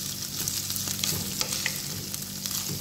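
Chicken sizzles and crackles steadily in a hot pan, frying before rice is added for Filipino garlic fried rice, a close, continuous hiss with occasional sharper pops.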